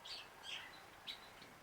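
Parrots calling in short, high squawks from nearby trees, three or four sharp bursts spaced irregularly over a quiet outdoor background.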